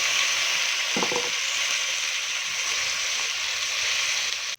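Softened pork hock frying in a pan with onion and garlic for pata humba, a loud, close, continuous hiss of hot oil with a brief clatter near the start.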